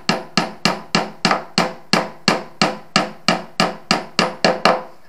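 A hammer drives a plastic wall anchor into a wall while an air conditioner outdoor unit is being installed: about fifteen sharp, evenly spaced strikes, close and loud, each ringing briefly, with no voices.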